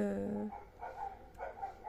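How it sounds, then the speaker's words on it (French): Large dogs bark outside in a quick run of short, faint, distant barks, following a voice indoors. "il y a des chiens."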